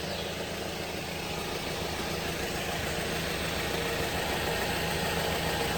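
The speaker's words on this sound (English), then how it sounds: "so the car is running." A 2011 Mazda 6 with a 2.5-litre four-cylinder engine idles steadily and close by, a low, constant hum and vibration that holds unchanged throughout with no talking.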